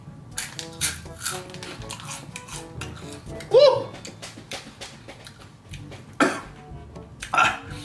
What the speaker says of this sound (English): Because I never cough this much from eating Takis.